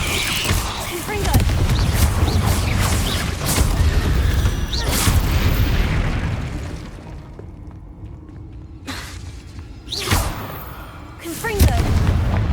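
Repeated Confringo blasting-spell explosions in Hogwarts Legacy, loud booming blasts with crackling debris over a dense low rumble of combat, with a few sharp bursts near the end, and voices shouting spells amid the fight.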